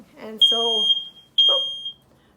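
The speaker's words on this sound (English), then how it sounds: "it did in fact just set off the smoke alarm" An indoor smoke alarm, set off by an air fryer cooking ribeye fat trimmings, gives two loud, high piercing beeps in quick succession, with a voice speaking around them.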